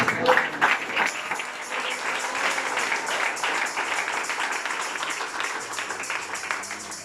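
A church congregation breaks into applause, a burst of clapping that starts strongest and then settles into a softer, steady patter from a roomful of people, with no clear voice over it.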